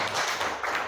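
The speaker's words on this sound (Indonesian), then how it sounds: "Tepuk tangan untuk kelompok 4." Applause for group 4 in a classroom setting, a dense, continuous patter of many hands clapping at close range, steady and fairly loud across the whole second with no talk over it.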